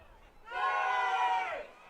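Crowd at a baseball game chanting together, a single swelling sustained shout of many voices that rises, holds for about a second and fades, heard at a distance.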